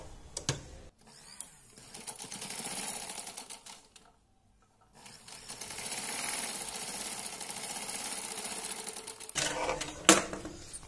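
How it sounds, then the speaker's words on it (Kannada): A sewing machine stitches along the edge of old saree fabric being made into a long gown, whirring in long steady runs broken by a brief silent pause and a few clicks near the end. "ಎಡ್ಜ್ ಗೆನೇ ಸ್ಟಿಚ್ ಅನ್ನು ಹಾಕೊಳ್ಳಿ"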